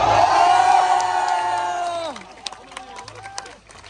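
A large protest crowd at Jantar Mantar in New Delhi lets out a loud, sustained roar of cheering and shouting that swells and then tails off after about two seconds. Scattered shouts and voices continue afterward.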